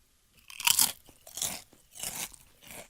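Thin, light potato chip bitten and chewed close to the mic in silence, four crisp crunches spaced roughly half a second apart, the first loudest.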